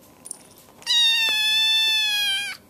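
A house cat lets out one long, loud, drawn-out meow lasting nearly two seconds, close to the microphone in a quiet room.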